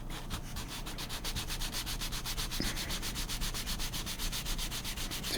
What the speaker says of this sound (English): Now I get to do this on this sandpaper.